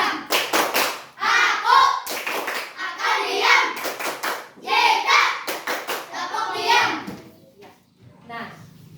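A primary classroom of children performs a rhythmic clapping routine, with bursts of sharp unison claps alternating with chanted children's voices, then trailing off into quiet.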